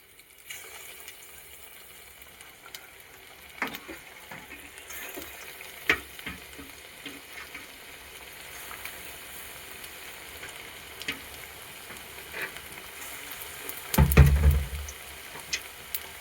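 Potato vada balls dropped one by one into hot oil over a medium flame, giving a soft steady sizzle with faint bubbling, rising to a louder burst of frying near the end.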